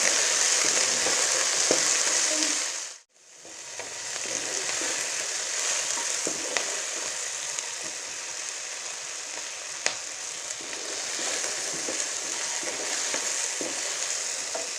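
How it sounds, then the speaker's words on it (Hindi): Cubed medium-sized tomatoes fry in a kadai with a steady, close, hissing sizzle and occasional stirring clicks, broken by a brief silent gap near the start before the frying resumes. "ये मीडियम साइज का टमाटर है, इनको फ्राई कर लेंगे।"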